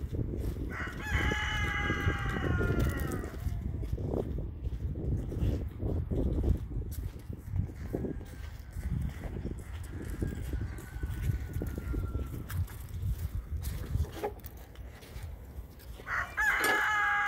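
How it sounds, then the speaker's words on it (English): A big farm chicken crows several times, loud and near, with harmonic cock-a-doodle calls early on and again at the end, interspersed with softer clucks over a rustling, shuffling background. "Look at this big chicken."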